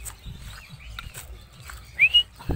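A pet lovebird gives two quick, bright chirps close by, standing out against a quiet room.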